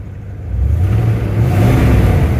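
An old Ford Bronco engine, started for the first time after sitting, rumbles close by, rising from a lumpy, rough low idle into a heavier, uneven throb with a slight rev.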